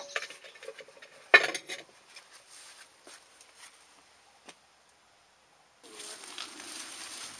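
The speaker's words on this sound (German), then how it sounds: "meine Frau lagert die gesäuberten Töpfe ein" Hard clay flower pots clink and knock together as they are stacked away, with a sharp clatter near the start, then scattered lighter taps, close by.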